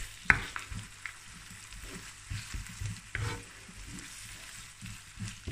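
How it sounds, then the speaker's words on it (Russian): Curry paste and chicken pieces frying in a pan with steady sizzling, broken by scraping and stirring strokes from a utensil, close and continuous. "Добавляем пасту карри и обжариваем пару минут и добавляем мясо. Все хорошо перемешиваем."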